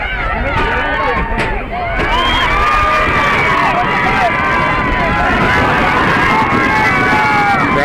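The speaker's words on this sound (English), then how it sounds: "Crowd gets excited here." Spectators at a girls' Class C regional semifinal soccer game cheering loudly, a big roaring crowd with children's shouts and high excited voices rising and swelling throughout.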